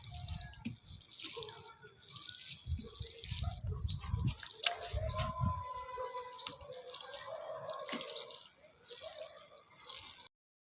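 Water drips and splashes as plants in pots on a terrace garden are watered, with irregular patters and trickles at moderate closeness, then it falls quiet at the end.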